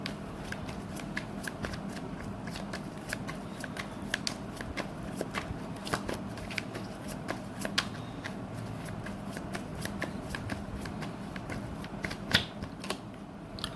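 A deck of tarot cards shuffled continuously nearby, producing rapid, steady riffling clicks and flutters over a faint low background hum and no talk.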